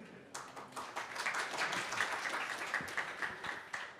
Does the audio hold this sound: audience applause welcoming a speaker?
yes